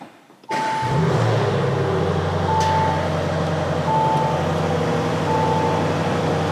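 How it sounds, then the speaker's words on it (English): An ABT-tuned Audi RS6 Legacy fires up abruptly and settles into a steady, deep idle, close and continuous, with a short electronic beep repeating at regular intervals over the engine. "The actual sound of the vehicle is interesting, to say the least"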